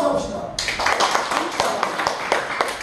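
A church congregation bursts into clapping during a sermon, sustained rapid applause of many hands filling the room after a brief spoken moment at the start.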